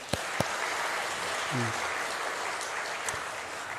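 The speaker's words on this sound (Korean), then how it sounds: "우리 찬양자 우리 다시 격려의 박수 부탁합니다" A church congregation at a Sunday service and scholarship ceremony claps in encouragement for its singers, soft and fairly distant, with a few sharper claps standing out and a brief voice in the middle.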